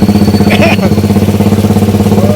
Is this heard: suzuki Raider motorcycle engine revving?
yes